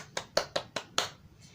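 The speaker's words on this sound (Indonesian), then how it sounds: "Oke, tepuk tangan untuk kelompok 2" Students in an elementary science classroom clap for a group, five sharp, evenly spaced claps close by, then a fainter one after a short pause, quiet otherwise.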